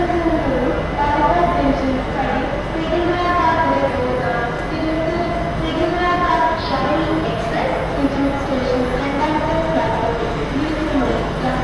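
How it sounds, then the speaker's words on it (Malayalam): Sabari Express arriving at platform 2 of Thrissur railway station, a steady loud rolling rumble of the train with a faint horn tone, continuous throughout. "തൃശ്ശൂർ റെയിൽവേ സ്റ്റേഷൻ്റെ പ്ലാറ്റ്ഫോം നമ്പർ 2 ഇപ്പോൾ ശബരി എക്സ്പ്രസ് എത്തിച്ചേർന്നിരിക്കുന്നത്"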